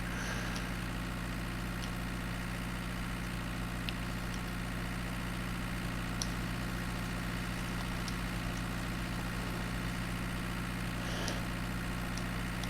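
A tractor engine idles steadily in Farming Simulator 19, giving a continuous low drone at even loudness with no talk over it.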